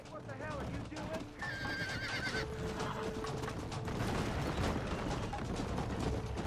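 A horse whinnies in the Red Dead Redemption video game, a brief high cry early on set against dense ambient noise, mechanical clatter and hoof sounds, with no speech.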